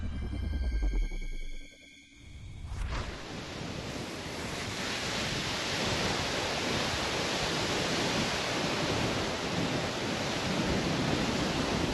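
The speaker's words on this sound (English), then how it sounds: "I don't know if you can tell, but it's super windy." Strong wind in stormy weather roars as a constant heavy rush against the microphone after a brief muffled thump and rustle, loud and close with no voices.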